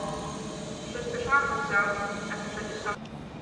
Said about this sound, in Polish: I wjeżdża pociąg Inter E i C z Warszawy do Bielska Białej.